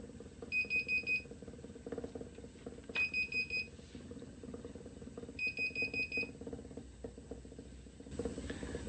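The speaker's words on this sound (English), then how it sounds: "when you get close to the ends, it starts beeping" A power inverter run directly off a DIY generator gives three bursts of rapid high-pitched beeps at regular intervals, over a steady engine drone and a constant high whine.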